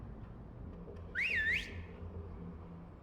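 A single rising-and-falling whistle in Genshin Impact, clear and fairly loud, lasting about half a second over a low ambient rumble.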